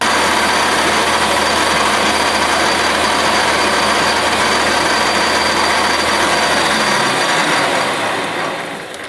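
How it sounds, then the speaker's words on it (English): Sandpaper held against a rocket nose-cone part spinning on a manual lathe gives a loud, steady whir with broad abrasive hiss, running continuously before winding down near the end. "I'm going to use some sandpaper here, get really careful about the lathe chuck"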